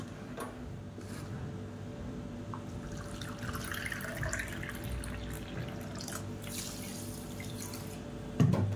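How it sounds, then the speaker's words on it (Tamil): One cup of water is poured onto sugar in a kadai for sugar syrup for Diwali sweets, a soft, steady splashing lasting a few seconds against a faint kitchen hum. "1 கப்பு தண்ணி ஊற்றிக்கலாம்."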